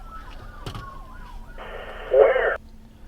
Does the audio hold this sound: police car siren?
yes